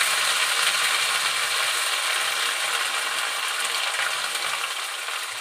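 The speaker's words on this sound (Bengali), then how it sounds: "তো নারকেলটা আমি এই তেলের মধ্যে দিয়ে একটু ভেজে নেব।" Fresh coconut fries in hot oil, a dense, steady close-up sizzle and crackle that eases slightly toward the end, with no voices.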